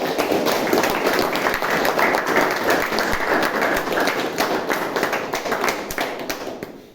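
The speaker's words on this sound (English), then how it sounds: "Can we have a big round of applause?" An audience at a Toastmasters club meeting claps together in sustained, dense applause that slowly thins and fades toward the end.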